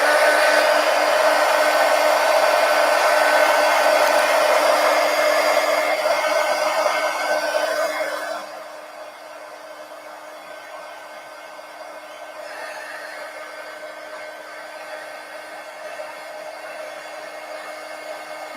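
A hair dryer blows steadily and loudly over a freshly glued napkin journal page in a traveler's notebook, then drops to a softer, lower setting or farther position for the rest of the time, with no talking.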